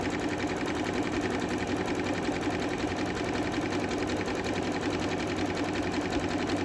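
A sewing machine stitches a zigzag seam finish down a fabric seam allowance, running as a fast, even mechanical whir from start to finish with no voices.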